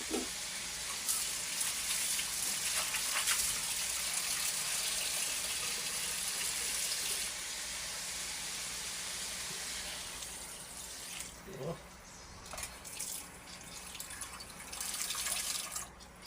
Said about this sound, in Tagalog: lalagyan na natin ng tubig ito.